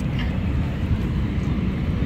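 Steady low broadband roar of an EasyJet airliner cabin in flight, heard continuously and fairly loud with no talking.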